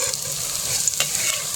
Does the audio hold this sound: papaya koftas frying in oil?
yes